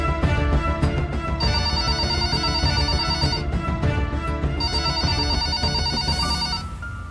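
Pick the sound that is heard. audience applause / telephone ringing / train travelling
telephone ringing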